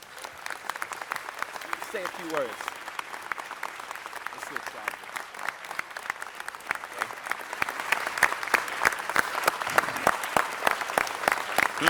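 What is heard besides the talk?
applause from city council audience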